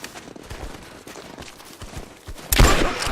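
Gunfire from Rise of the Tomb Raider, a run of sharp game shots and thuds over shuffling movement, ending in a loud, bright burst near the end.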